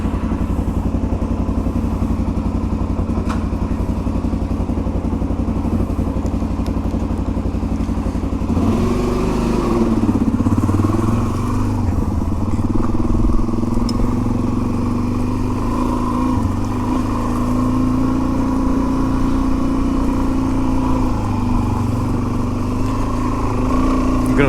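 A Suzuki DRZ 400 dirt bike rides steadily along a leaf-covered trail, its engine a continuous loud drone that shifts in pitch around the middle as it works harder, with no voices over it.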